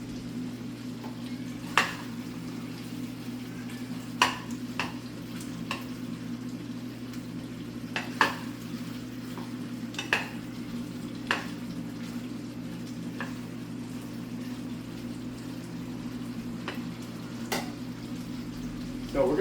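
Sausages frying in a pan with a steady low sizzle and bubbling hum, broken by occasional sharp utensil clicks and scrapes as they are stirred, close and moderately loud with no speech.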